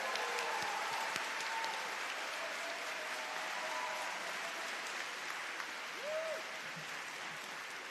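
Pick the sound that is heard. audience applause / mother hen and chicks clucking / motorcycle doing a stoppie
audience applause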